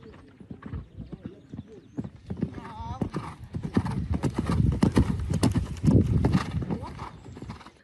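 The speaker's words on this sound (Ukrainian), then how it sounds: "На цьому відео Вікторія Маяцька на коні бархані виступає на щорічних змаганнях." A horse competing at an annual equestrian jumping competition, its hooves clip-clopping in a steady series of sharp, close strikes with voices in the background.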